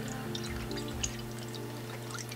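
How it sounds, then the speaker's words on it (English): Coolant trickles as it is poured into a Toyota 1JZ-GTE/2JZ-GTE engine's cooling system, a faint, continuous liquid pour over a steady low hum. "now once you have your radiator hose on, you can re-add the coolant that you took out previously"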